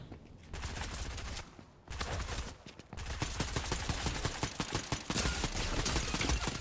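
Enemies in a video game open fire in dense, rapid bursts of gunfire that sound like an automatic weapon, close and loud. The shooting breaks off briefly twice and then rattles on without pause.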